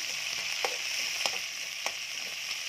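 Garlic frying in a pan for pork chop suey, a steady close hiss of oil with a few soft clicks of stirring spread through the clip; nobody speaks.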